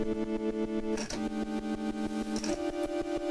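A sustained, distorted electric guitar tone chopped into a steady, rapid pulsing rhythm by a Koma Elektronik pedal gate effect, ramping upward in pitch midway, played alone and fairly loud.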